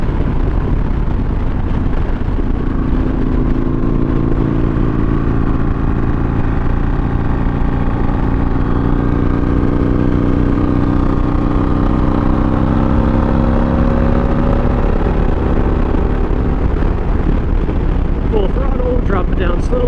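Harley-Davidson Iron 883 Sportster riding in 4th gear, a loud steady V-twin drone with a low throbbing exhaust and wind rush, engine pitch slowly shifting as the bike settles into the lower gear.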